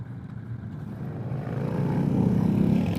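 A 2022 Kawasaki Vulcan S ABS motorcycle engine idles while stopped, a steady low rumble that swells slightly in loudness over a few seconds, close by with no talking.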